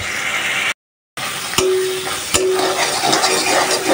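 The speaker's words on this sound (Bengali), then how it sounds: "তো মশলাটা ভালোভাবে কষিয়ে নিচ্ছি চিংড়ি মাছের সাথে।" Spice paste frying and being stirred with prawns in a pan, a steady bright sizzle with a few sharp scrapes and clinks of the stirring utensil, close and with no talk, briefly cut to silence early on.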